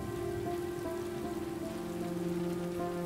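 Steady rain pattering on surfaces in the video game Road 96, a continuous dense hiss with a droning musical tone underneath and no speech.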